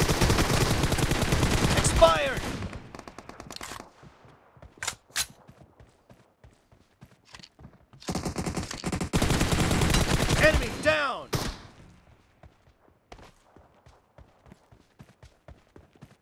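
Gunfire in the PUBG Mobile video game: dense bursts of automatic rifle fire in two long loud volleys, with scattered single shots and quieter gaps between them.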